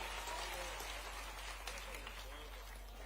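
Audience applause at a Vimukti Diwas event in Bhopal, a steady wash of clapping that holds at an even level for the whole stretch and stays moderately far off.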